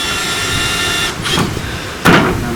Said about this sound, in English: I'm very simply just driving screws through it